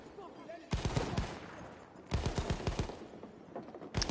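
MG15 machine gun fire in a video game team deathmatch: three sustained rapid bursts of automatic fire separated by short pauses, fairly close and steady.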